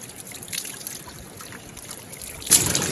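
Cold water from a mountain spring in Uttarakhand trickles and babbles steadily up close, with a soft continuous wash and a slightly louder splashing burst near the end.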